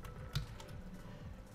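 Keys tapping on a computer keyboard, a few quick close clicks with one sharper stroke, quiet and heard alone.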